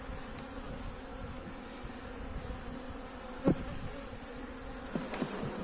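Honeybees buzzing on hive frames at an autumn apiary, a steady dense drone from many bees close by, with a brief louder knock partway through.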